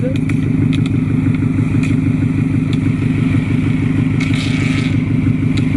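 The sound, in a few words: Scion FR-S with Tomei exhaust revving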